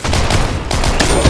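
Rapid automatic gunfire from hip firing in the shooter game Combat Master, a loud, dense stream of shots with a brief gap partway through before the firing resumes.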